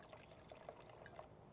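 Wine poured into a glass: a short, faint trickling pour with small liquid splashes, close and quiet, with no talking.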